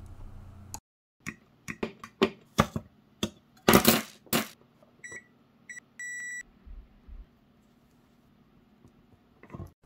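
An old hard drive's armature, driven by an audio signal, plays crude music as a series of sharp clicks, ticks and short buzzy beeps with pauses between, fairly faint and close.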